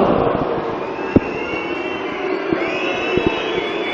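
A darts arena crowd at the European Darts Grand Prix groans and murmurs in a broad wash of noise after a missed perfect leg, with a few sharp shouts poking through.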